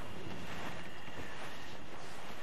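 A sailing ship moving along a river in Assassin's Creed Black Flag, a steady rushing wash of water and wind with no talk.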